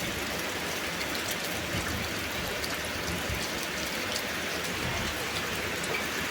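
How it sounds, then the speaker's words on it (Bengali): Heavy, steady rain pours down on a rooftop with dense, even drumming on surfaces, continuous and close throughout, with no voices. "এখন ছাদে এসেছি আর প্রচুর পরিমাণে বৃষ্টি"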